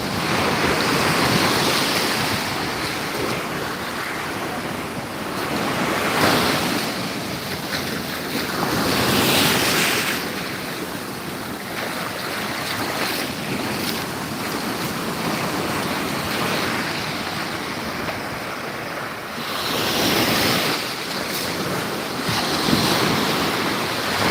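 Waves crash and wash onto shore at Gandhi Beach, Pondicherry, in repeated surges, loud and close, mixed with strong wind noise buffeting the microphone.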